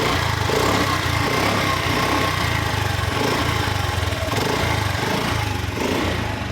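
A 2012 Honda Activa scooter engine idles steadily after a self-start, a continuous close-up mechanical drone with a throbbing low-end pulse and no talking.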